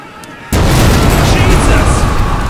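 A sudden loud boom bursts in and sustains as a heavy rumbling roar of explosions and gunfire amid sirens in a city scene from a Raccoon City horror audio drama, with a voice speaking over it.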